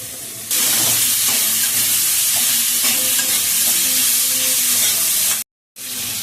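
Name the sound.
small cut potatoes frying in pan with Malabar spinach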